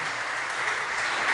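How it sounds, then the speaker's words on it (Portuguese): A church congregation applauds together, a dense, steady wash of many hands clapping at close range, sustained evenly throughout with no voices over it. "Vamos dar um lindo aplauso a Jesus."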